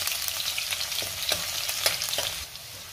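Crushed garlic sautéing with cumin seeds in hot oil, a bright continuous sizzle with a few sharper crackles and soft stirring scrapes, close and unaccompanied by talk.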